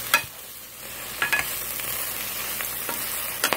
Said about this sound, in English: cook the lemongrass and the ginger just for a little bit